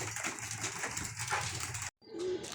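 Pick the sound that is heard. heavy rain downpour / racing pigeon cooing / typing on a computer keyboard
racing pigeon cooing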